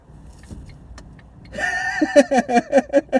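A car's ignition switched off: a few soft key clicks and ticks, then a loud chime pulsing rapidly about six times close by.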